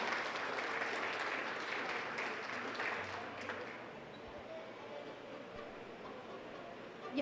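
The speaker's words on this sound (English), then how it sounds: "Let's have a big round of applause." Audience applause at the 2021 Oklahoma Czech-Slovak Royalty Pageant, a dense steady clapping from a hall crowd that runs throughout and thins slightly toward the end.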